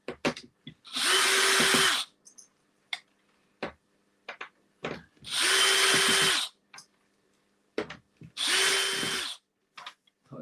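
A power drill backs screws out of wooden boards in three loud bursts of about a second each, separated by short gaps of clicks and handling knocks.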